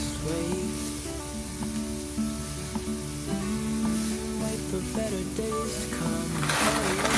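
Vegetable soup with pepper cooking in a pot, giving a steady close sizzling, bubbling hiss with faint stirring clinks throughout, no voices.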